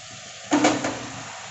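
Dry vermicelli dropped into a pot of boiled vegetables, a short rustling clatter of about half a second over a steady low background hum, close and alone.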